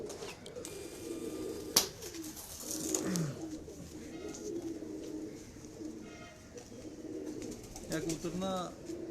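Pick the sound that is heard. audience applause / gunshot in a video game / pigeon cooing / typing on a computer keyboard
pigeon cooing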